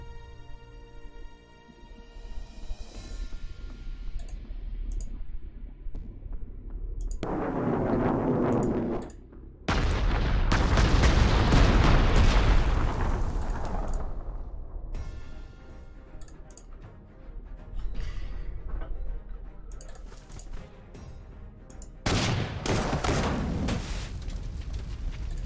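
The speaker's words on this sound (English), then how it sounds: "I just need my artillery support in here" Artillery fire in the Panzer Corps 2 strategy game near Leningrad, several heavy booming blasts with long rumbling tails, one large burst around the middle and another near the end, over a quieter bed of sound.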